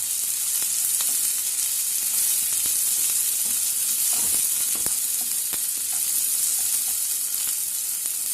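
Onions and green chillies frying in oil for potato bonda masala, a bright continuous hiss-like sizzle with occasional small pops and scrapes of stirring, close and steady.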